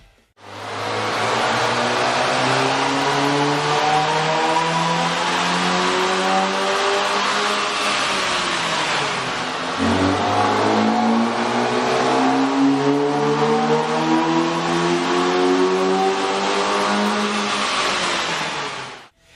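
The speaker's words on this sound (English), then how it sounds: "With the air intake installed, we ran the vehicle on the dyno to test the sound comparison versus the stock intake." A 2013 Dodge Dart with a 2-liter engine and a K&N cold air intake revs on a dyno, its loud engine note climbing through two long rising sweeps with a brief dip between them.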